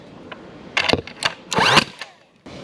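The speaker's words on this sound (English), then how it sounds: "I'm attaching it using 18-inch brad nails" An 18-gauge brad nailer fires small nails through a decorative wood strip on a mirror frame, making several sharp pneumatic snaps and clacks in quick irregular succession, close and fairly loud in a quiet room.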